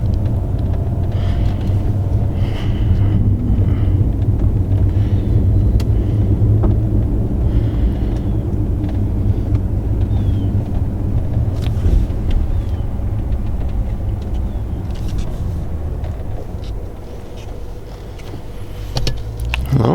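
Cabin of a 100,000-mile BMW 750i M-Sport on the move with the windows rolled up, a steady low road and engine hum inside the car, with quiet talk now and then.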